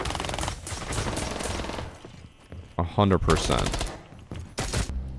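SMG-12 submachine gun fire in a first-person shooter, firing in rapid bursts. A fast rattling stream of shots plays near the start, with another short burst later. A voice speaks between and over the bursts.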